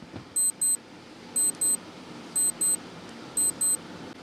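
A quiz countdown timer beeps in steady paired electronic chirps, two quick high tones repeating about once a second, over a faint hiss with no voices.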